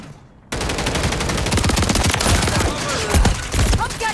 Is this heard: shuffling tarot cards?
no